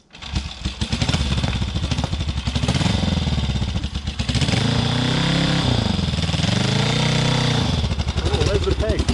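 Honda Africa Twin parallel-twin motorcycle with its exhaust set to quiet mode, ridden off-road at an easy pace: a steady, throaty engine drone close by, swelling and easing with the throttle, as a rider talks over it.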